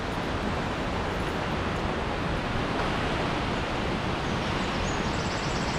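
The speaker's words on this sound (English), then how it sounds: "I am under the waterfall." Baatara Gorge waterfall roars as a dense, steady wash of falling water, heard loud and close from underneath.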